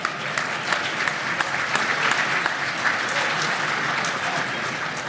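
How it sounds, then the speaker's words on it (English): Audience applause at an economic forecast event, a dense, sustained wash of clapping from a large crowd that stays steady and loud throughout the whole stretch. "Let's give them a big round of applause."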